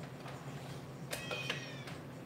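A cat meows a few times in a quiet room, short harmonic cries with a faint earlier mew and a last brief one near the end, fairly soft and close with no talk over it.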